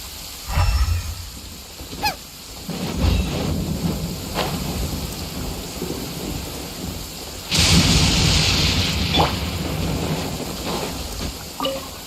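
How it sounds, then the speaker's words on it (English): Heavy rain pours steadily in a Genshin Impact storm, broken by several loud thunder crashes and rumbles, one sharp close crack, with no voices. "Taking a stroll in the middle of a downpour certainly rouses the spirit."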